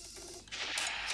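Fireworks effects crackle and burst during a pack draw in a football video game, a soft low rumble giving way to brighter popping bursts that build and linger.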